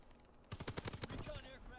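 Burst of rapid automatic gunfire from a video game team deathmatch, a quick run of sharp close shots followed by fainter scattered pops.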